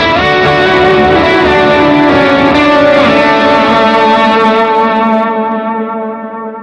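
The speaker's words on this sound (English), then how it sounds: "I think I normally use the distortion." An electric guitar run through a distortion pedal rings out loud and sustained. Thick, saturated chords hold for several seconds with a little echo, then fade toward the end.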